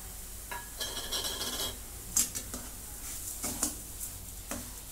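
Sugar goes into a coconut barfi mixture in a pan and is stirred, with close scraping and rasping strokes, light sizzling and a few sharp clinks of the spoon against the pan.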